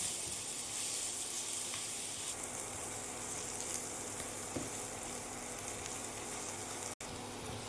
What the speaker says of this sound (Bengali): পেঁয়াজটাকে আমরা সুন্দর করে ফ্রাই করব গোল্ডেন হওয়া অবধি